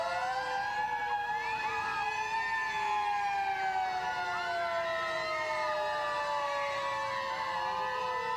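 Fire truck sirens wail at the St Paul Winter Carnival Vulcan Victory Torchlight Parade, several overlapping siren tones sweeping down steadily, fairly loud and close with engine rumble beneath.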